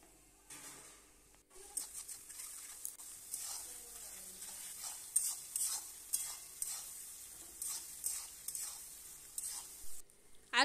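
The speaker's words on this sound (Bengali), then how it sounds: "এখানে আমি ভালোভাবে সব পেঁয়াজগুলো ভেজে নেব।" Chopped onions fry in a pan for mutton kosha, a steady bright sizzle broken by repeated close scraping and clattering stirs, with no talk.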